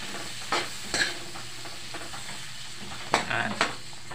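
Shrimp cooking in a pan of butter, a steady close sizzle with a few sharper scraping or stirring bursts near the start and again toward the end, no voices.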